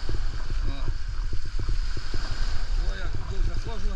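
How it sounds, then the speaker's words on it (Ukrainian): Steady wash of waves and wind noise on an open shore of Lake Tahoe, Nevada, with a voice talking over it and low rumbling gusts throughout. "Зараз такі хвилі."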